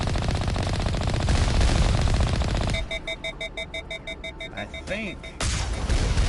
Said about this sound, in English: we can shoot at that Geth with impunity from right here